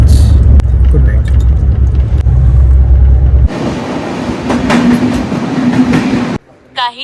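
Train carriage rolling along the Mumbai to Malvan railway, a steady loud low rumble with rattling, shifting to a brighter clattering roar partway through, then briefly quieter near the end; voices murmur faintly in the background.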